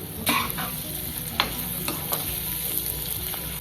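Fried chicken stirred into onion paste for Coimbatore-style chilli chicken, sizzling steadily in a pan with a few sharp spatula scrapes and knocks, close and fairly quiet.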